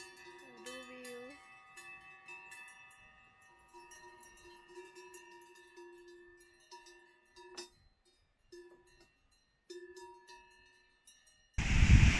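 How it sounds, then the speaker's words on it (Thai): Bells worn around the necks of cows in a Swiss mountain valley clank irregularly, some faint and distant, others louder, with a short voice early on and a burst of wind noise at the end. "วัวทุกตัวที่นี่เขาก็จะใส่กระดิ่งนะคะที่คอ"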